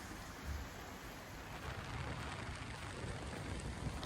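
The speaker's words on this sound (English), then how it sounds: "Waiting for the rain to finish before we get on the bikes" Steady rain falling before a motorbike ride near Ceduna, South Australia, a dense, even hiss of drops with low rumbling underneath, continuous and moderately loud throughout.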